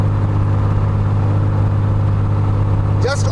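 Aircraft piston engine with propeller running at a steady drone, the RPM held level with a constant low hum, ending in a brief rising whine near the close.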